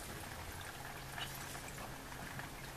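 Water squeezed out of laundry as it is cranked slowly through a vintage hand-powered Acme mangle, a soft continuous trickling and splashing rush with faint low rumbles, steady and fairly quiet.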